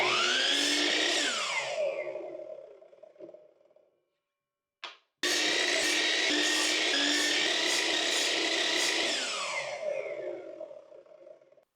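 A table saw with a rough blade cuts wood in two passes, each a loud whining buzz that spins up, holds steady under load, then winds down, with a short silent gap and a brief thump between them.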